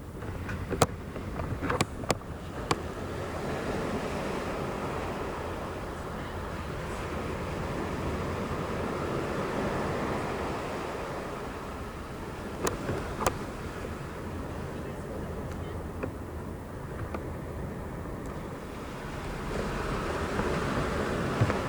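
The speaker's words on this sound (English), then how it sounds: "Can you guys hear the ocean?" Ocean waves come through an open window as a steady, full wash of surf noise with a light windy hiss, broken by a few sharp clicks and knocks near the microphone.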